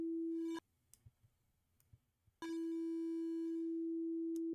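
A pure synthesizer sine tone run through a bit crusher holds steady, cuts out for a couple of seconds of faint clicks, then returns loud and sustained, with a few soft ticks scattered in the gap.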